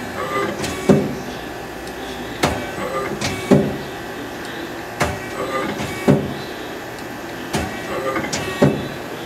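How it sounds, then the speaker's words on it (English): Turret indexing on a 2006 Hwacheon Cutex 160 CNC turning machine, heard as a series of sharp mechanical clunks roughly every one to two seconds over a steady machine hum, with no talking. "And then you do a turret change right here."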